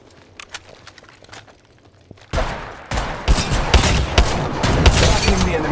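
Bursts of automatic gunfire in the video game Apex Legends start abruptly after a quiet stretch, then continue as loud, dense, repeated shots with sharp cracks layered over one another.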